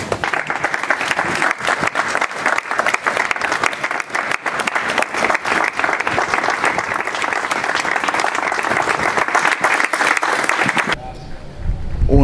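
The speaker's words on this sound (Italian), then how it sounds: "Io direi di fare un applauso in memoria dei nostri colleghi." Sustained applause from a crowd gathered outside the Questura in Catanzaro in memory of police officers killed in Trieste, dense clapping that carries on for about eleven seconds before dropping away abruptly.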